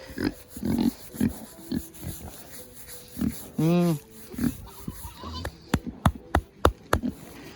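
A big, chunky farm hog grunts and oinks close by in a series of short bursts, including one longer squealing call, with some clattering and knocking toward the end.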